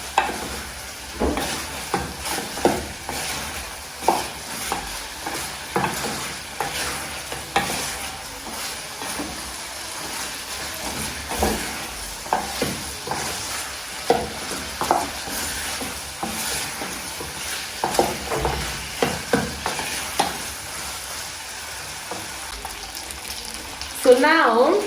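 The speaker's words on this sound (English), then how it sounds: "So we just continue stirring until the pork browns and the fat" Pork fries in its rendering fat in a pan while a utensil stirs and scrapes in a steady, uneven rhythm over a constant sizzle, with a voice talking intermittently.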